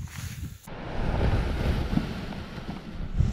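Wind rushing across the microphone in a continuous roar at a mountain bivouac on La Sambuy (2198m), starting abruptly after a brief lull and staying steady throughout.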